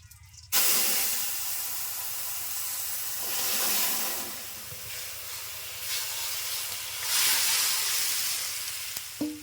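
Fish broth hits a hot pan holding oil, green chilies, bay leaves and whole cumin seeds. A sudden loud hiss bursts out, then a sustained sizzle and steam rise and fall in waves for several seconds before a faint clink at the end.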